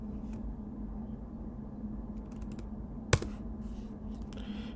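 A web address being typed on a computer keyboard: a few faint, sparse key taps and one sharper click over a steady low room hum, with no voices.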